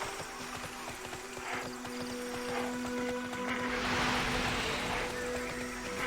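Horse hooves clip-clop in a steady rhythm while riding through the online game Tera, mid-loud with a faint tonal game hum and ambient sounds behind.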